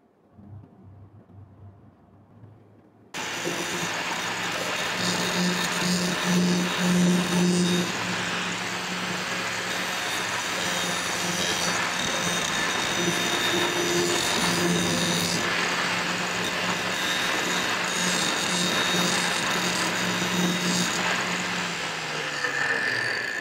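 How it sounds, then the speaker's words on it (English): Angle grinder with a grinding wheel removing welding debris from metal, a steady loud whine that starts abruptly after a few seconds of quiet and continues without pause. "we'll see how to use grinding wheel and remove welding debris or rough spots from metal parts"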